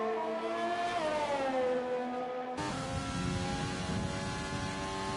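McLaren Formula 3 race car engine in a racing sim, a loud, high whine that climbs and falls through the revs, then cuts to a rougher, buzzing engine note that holds steady to the end.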